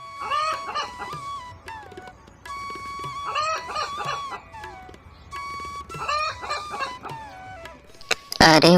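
Chickens clucking and a rooster crowing in a farmyard, repeated bursts of clucks and calls roughly every few seconds, fairly close, ending in a sharp loud squawk.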